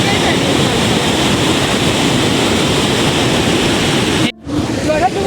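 Davis Falls waterfall in Pokhara roars as a dense, continuous rush of falling water, loud and steady, and then cuts off abruptly near the end.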